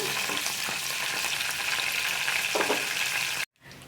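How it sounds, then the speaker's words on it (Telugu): Dried red chilli and curry leaves fry in hot oil, stirred with a ladle, making a continuous close sizzle with light scraping; the sound cuts out abruptly near the end, then resumes faintly. "ఒక ఎండుమిర్చి వేసుకొని ఇలా గంటతో తీసుకుంటూ ఫ్రై చేసుకోవాలి"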